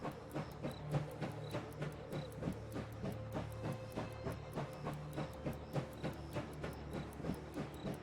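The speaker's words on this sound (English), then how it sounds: "Start moving the train forward." Train rolling forward in the video game Last Train Home, a rhythmic clickety-clack of wheels over rail joints repeating steadily at a moderate pace, with a low rumble underneath and no speech.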